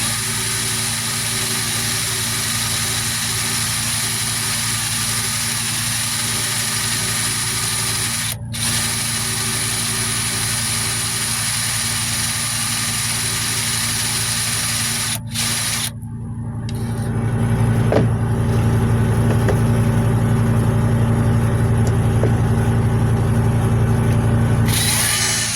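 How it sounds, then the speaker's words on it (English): A power drill bores out a rivet on a leather rider safety buckle, a steady whining drone running on and on with two brief stops, then a louder, rougher grinding stretch as the bit bites through. "let the drill and the drill bit do its work"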